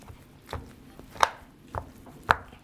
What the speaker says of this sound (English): This is what I mean by chopping it